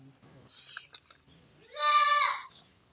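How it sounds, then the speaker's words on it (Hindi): Goat kids bleat loudly together in a short burst near the microphone, following a stretch of quieter voices and handling noise. "ये जो शोर हो रहा है ना बकरियों के बच्चे"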